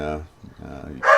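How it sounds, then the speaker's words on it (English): A dog gives a short, sharp bark at the end, right after a brief stretch of someone talking. "I apologize for the dog barking."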